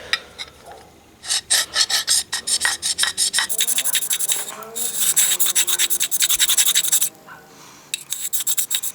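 A carbide woodturning cutter is rubbed back and forth on a sharpening hone in rapid bursts of close, raspy strokes, with short pauses between runs.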